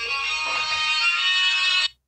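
Steady electronic phone ringtone, a mother's incoming call in a cluttered room being set up as a home music studio; bright tonal melody rings loudly and continuously for nearly two seconds, then cuts off abruptly, with no voices.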